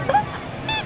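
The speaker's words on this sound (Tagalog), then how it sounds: "Uy, may ibon, no? Hi, birdie." A single bird honks twice in quick, short calls, goose-like, outdoors at Singapore tourist sights, with a faint voice around it.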